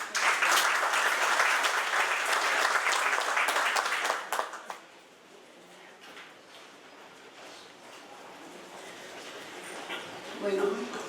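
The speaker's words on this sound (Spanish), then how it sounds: "La recibimos con un caluroso aplauso." Audience at a national seminar gives warm applause to welcome a speaker: loud, dense clapping for about four seconds that stops abruptly, leaving a quieter room with faint stirring and a brief murmur near the end.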